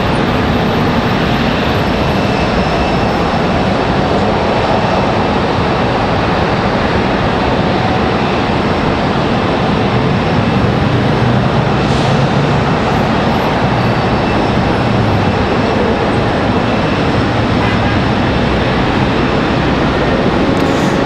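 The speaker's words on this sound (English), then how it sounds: "Got another 777 taxiing in." A Boeing 777 taxiing at Charlotte Douglas International Airport gives off a steady, loud broadband jet roar that runs unbroken for the whole stretch, with no voices over it.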